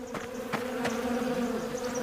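A steady, moderately faint buzzing of bees in the video game Blade and Sorcery hums throughout, with a few soft clicks breaking in near the start.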